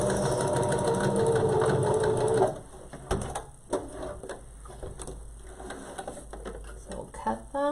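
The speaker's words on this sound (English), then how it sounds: "we're going to sew from the top to the other side now" Sewing machine stitching a cloth surgical-style face mask, a fast steady mechanical whir for about two and a half seconds that stops abruptly, followed by softer clicks, fabric handling and a voice talking nearby.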